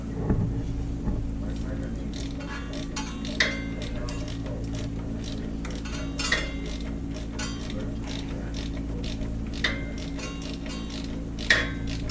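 Wrench work on the exhaust bolts of a Can-Am Maverick: sparse ratcheting clicks and metallic ticks come every few seconds over a steady low mechanical hum.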